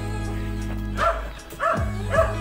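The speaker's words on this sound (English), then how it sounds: "Oh, we got to slow down for the dog" A dog barks three times close by over a low, steady engine hum during a road run in Cavite, Philippines, the barks spaced about half a second apart.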